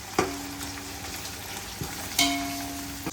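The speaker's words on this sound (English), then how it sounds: "That's the sound. It's calming down the onion, so that onion will not burn further" Onions frying for biryani give a soft, steady sizzle, with a couple of sharp clinks from stirring. It is fairly quiet and close, and no one speaks.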